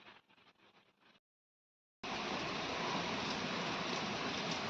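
Heavy rain pours outside in a dense, steady hiss after a brief quiet gap, preceded by a fainter, muffled stretch of rainfall.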